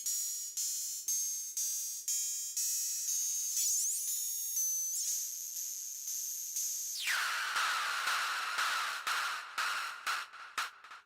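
Metallic, filtered synth tones from the BrainZ module in Tera Pro on iPad, a rapid series of bright ringing plucks that shift into a lower, darker swept tone, then decaying pulses, with no voices.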